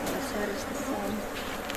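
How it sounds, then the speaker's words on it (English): Honey bees buzz loudly up close during an inspection of a homemade horizontal Langstroth beehive, a dense continuous hum with no pauses over the brief moment. "These bees are looking very strong, which is awesome."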